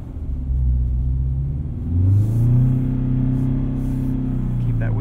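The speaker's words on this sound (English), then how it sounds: "Keep that wheel spin up." A 2022 Subaru BRZ on Falken Winterpeak F-Ice 1 winter tires spins its wheels in wet snow and slush, the engine revving up in a steady droning rise with a rumbling whir that holds loud and close throughout.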